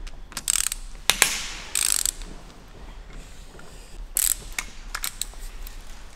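A ratchet undoing bolts on a Lamborghini V10 engine, several short bursts of rapid clicking separated by quiet pauses, close up with no talk.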